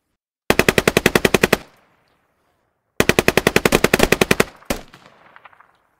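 Two loud, close bursts of rapid machine gun fire in the video game Squad, each a fast even string of about a dozen shots with a short fading echo after, separated by a gap of silence.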